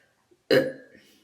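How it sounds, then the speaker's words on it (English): A single loud, close burp from a man bursts out abruptly after a brief silence and trails off over about half a second. "I have to burp."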